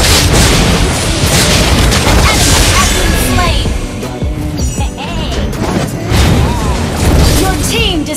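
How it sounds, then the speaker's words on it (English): A turret is destroyed in the Mobile Legends game, with loud booming crashes and explosive impacts over busy game effects, and a voice is heard in places. "Your team destroyed the turret."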